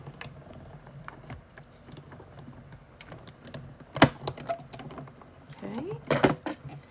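A die cutting machine rolls a card panel and banner die through, giving soft, steady mechanical clicking and ratcheting with a couple of sharper clunks partway through and near the end.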